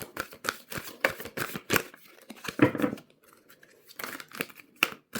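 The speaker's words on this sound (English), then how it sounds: "They're starting to get difficult to shuffle." A tarot deck, its cards growing stiff, is shuffled in quick crisp bursts of flicking and riffling, close up, with a short pause midway and no talking.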